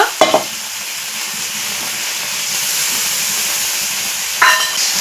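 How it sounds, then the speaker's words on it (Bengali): Spice paste frying in a pan for a village-style snakehead fish and potato curry, a steady close sizzle with brief stirring scrapes at the start and near the end. "এখন আমি মশলাটা ভালো করে কষিয়ে নেব"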